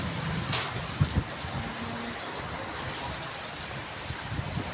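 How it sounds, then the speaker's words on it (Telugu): Heavy rain falls as a steady broadband hiss with a few sharper splashes and knocks, fairly close and unbroken throughout. "పెద్ద వర్షం అయితే పడుతుంది"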